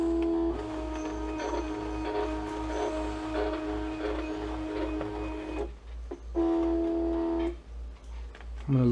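A home sticker cutting machine runs a cutting path, humming with a steady tonal motor whine that drops out briefly twice near the end before starting up again.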